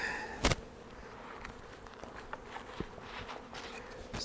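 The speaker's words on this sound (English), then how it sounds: "So we got a lot of bees flying around wondering where their home went." Honey bees fly about an open hive in early spring, making a faint, steady buzz with a few brief louder passes close by and a sharp knock near the start.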